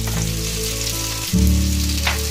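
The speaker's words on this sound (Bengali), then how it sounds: "দেখুন পটলটা জাস্ট মাঝারি ভাজা হয়েছে, আর একটু লাল হবে।" Pointed gourd and potato fry in a wok, giving a continuous, fairly loud sizzle with a low hum underneath and no one talking.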